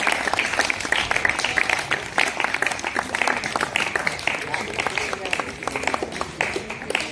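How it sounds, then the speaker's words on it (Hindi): Audience applause at an Independence Day prize ceremony, a dense, steady patter of many hands clapping throughout, with some voices mixed in. "तालियां कंटिन्यू बजती रहे, तालियों में कोई कंजूसी नहीं हो।"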